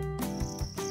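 Edible crickets kept in a breeding container chirp in a steady, shrill, close trill, with a few brief low thumps beneath it and no voices.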